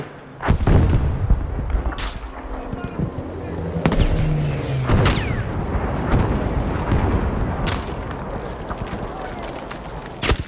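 Gunfire and explosions from the video game Battlefield V, with sharp shots and heavy booms scattered across a rumbling battle background, while a player talks over it.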